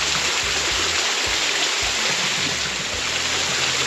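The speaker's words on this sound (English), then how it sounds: "this is not the most magnificent waterfall in the area" Crooked Arm Falls, a small waterfall in Cades Cove in the Great Smoky Mountains, pours in a loud, steady rush of falling water heard up close with no voices.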